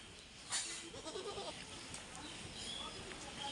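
A female goat bleats briefly at close range among quiet outdoor background noise, with faint scuffling around it.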